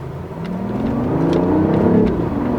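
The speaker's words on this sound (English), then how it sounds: "great job BMW on giving us a fake audio of like a more powerful engine" A 2015 BMW i8's engine revs up steadily with a rising whine through the gears, loud and close, climbing in pitch as it accelerates, partly artificial engine audio.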